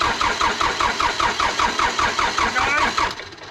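A John Deere tractor engine cranking and catching after repair in a steady rapid pulse, loud and close, a mechanical chugging that runs throughout.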